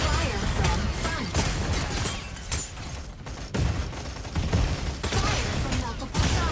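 Rapid gunfire pours in from several sides in a video game, a dense, loud clatter of shots with brief lulls and mechanical clanks throughout.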